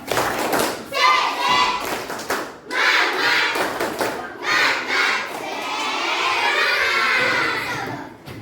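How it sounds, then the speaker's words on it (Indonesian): Schoolchildren in a classroom perform a rhythmic spirit clap, with bursts of patterned clapping, thumps and excited shouting voices rising together in short loud surges before a longer cheering stretch. "Coba tepuk semangat."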